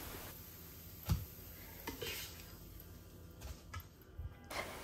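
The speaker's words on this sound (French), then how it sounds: "Et là, je termine de cuire le reste des pancakes" Courgette and parmesan pancakes cook in a pan, giving a faint, steady sizzle broken by a few close utensil scrapes and soft knocks, no voices.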